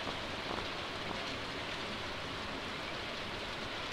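Steady rainfall from the Stardew Valley video game, a soft, even hiss of falling rain with no other sounds or voices.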